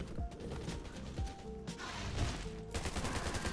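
Rapid bursts of gunfire from the zombie-survival video game Undawn, crackling repeatedly over game music and effects, loud and close throughout with overlapping shots.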